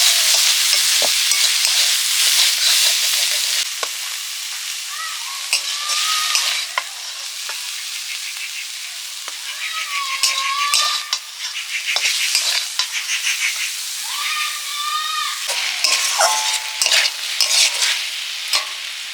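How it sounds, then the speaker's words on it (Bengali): Mixed vegetables stir-fried in a pan give off a steady, loud sizzle, broken by repeated scrapes and clacks of the spoon against the pan. "সবজিগুলো তো কষে নিয়েছি"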